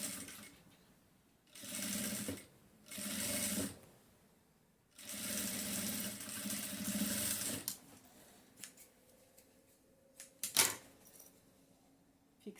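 A sewing machine runs in short bursts, stitching a zipper onto a denim bag, with pauses of handling and rustling between runs and a sharp clack near the end.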